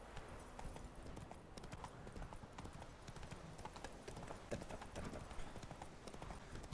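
A horse gallops along in The Witcher 3, its hooves clip-clopping in a quick, steady rhythm that runs the whole time at moderate, fairly close volume, with a faint voice in the background.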